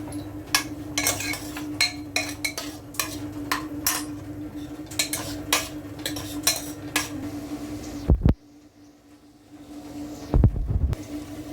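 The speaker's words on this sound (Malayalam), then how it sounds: "ഇപ്പം നമ്മൾ വഴറ്റുവാണിത് നല്ലവണ്ണം" A metal spoon scrapes and knocks against a pan while vegetables with turmeric are stirred and sautéed for a vegetable pulao, giving a steady run of sharp clinks over a low kitchen hum, then a brief pause and a few more knocks.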